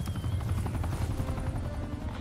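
A helicopter in the Call of Duty: Black Ops Cold War video game thrums with fast, loud rotor chop and a deep engine rumble, close and continuous, no voices over it.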